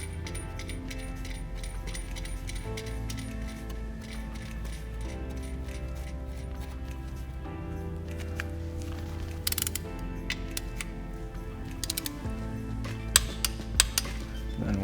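Magnetic oil drain plug with crush washer threaded and tightened into the oil pan of a BMW N55 engine, giving quiet metallic ratcheting and clinking, with a few sharper taps near the end.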